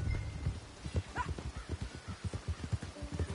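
Horse ridden at a steady pace in the Red Dead Redemption 2 video game, rhythmic close hoofbeats thudding continuously with a brief whinny-like cry near the one-second mark.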